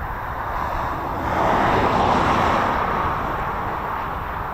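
Aircraft powered by a Pratt & Whitney Canada 617F engine at an RAF air display, a loud, broad jet roar that swells briefly in the middle and then holds steady.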